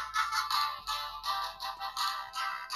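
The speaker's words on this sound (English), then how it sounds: "My phone's ringing." A phone ringtone playing a song sounds steadily for a few seconds in a quiet room during a gaming session, its melody pulsing in a repeating rhythm, fairly loud and alone without any voices.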